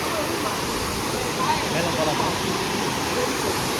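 Waterfall at Anguthi Sunai, its flow reduced, pouring in a steady, broad rushing roar that fills the clip from start to finish with no pauses.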